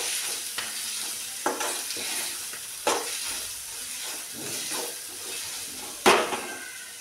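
Spinach with turmeric being sautéed in a pan for lasooni palak, a soft continuous sizzle broken by several sharp scrapes and taps of the spoon against the pan.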